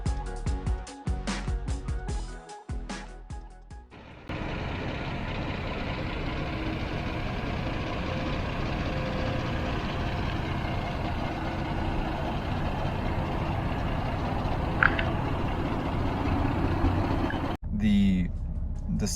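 A 2012 Hyundai Genesis Coupe engine idles with a steady, low continuous hum that runs through most of the stretch, preceded by a few seconds of louder, choppier noise at the start.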